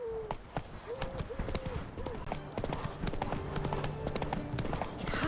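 Roach the horse gallops through The Witcher 3, hooves clip-clopping in a steady, quick rhythm close by, with occasional snorts and game ambience underneath.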